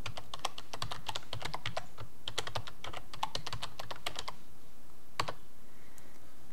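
Rapid clicking of keys on a computer keyboard as a password is typed on a Windows 11 PC, a fast burst of keystrokes, a pause, then a couple of final taps, close and fairly quiet.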